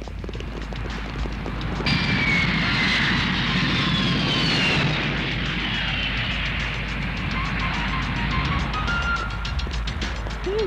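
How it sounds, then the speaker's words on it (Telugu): An airplane arriving at an airport gives a loud, sustained engine roar with a high whine that slowly falls in pitch, heard alone for about ten seconds. "ఫ్లైట్ వచ్చేసింది"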